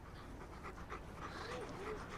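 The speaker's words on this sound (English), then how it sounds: "Oh my goodness, what a cute pup." Quick rhythmic panting from a small pup in a romantic movie scene, breathy and close, running under light background voices.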